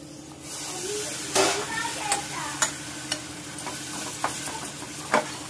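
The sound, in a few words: mutton mince frying with spices in a pan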